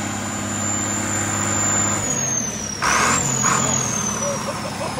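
An old bulldozer engine that had sat parked for ages runs steadily, with a loud, close, droning rumble and a high whine, holding constant throughout.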